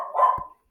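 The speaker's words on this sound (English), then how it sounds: "Sorry about my dogs." A dog gives a single short, close bark in a quiet room, then silence.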